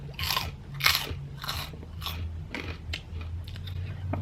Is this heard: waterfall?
no